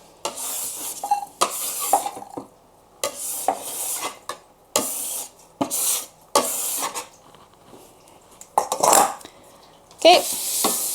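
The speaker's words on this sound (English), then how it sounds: "I'm just going to use my bench scraper to get all of this off." A bench scraper scrapes dough for Greek yogurt bagels off a work surface in repeated, close, gritty strokes, each a second or so long with short pauses between, and no talking.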